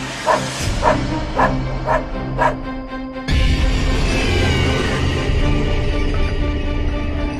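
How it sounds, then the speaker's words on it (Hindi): A dog barks in a quick series of sharp, close barks, then the barking stops and a loud, steady background noise takes over. "तुम पंडित जी की तरफ देखकर क्यों भौंक रहे हो?"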